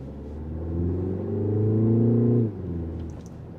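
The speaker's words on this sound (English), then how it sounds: "You can actually hear the turbocharge right around this section right here." Turbocharged engine of a 2026 Mini Countryman S heard from inside the cabin, a steady harmonic drone that swells and climbs under acceleration for about two and a half seconds, then drops back to a softer hum.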